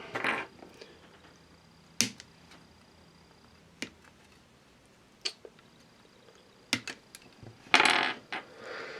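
Sprue cutters snip plastic feet parts off a B-Daman model kit runner, producing a few sharp isolated clicks and snaps with quiet pauses between them.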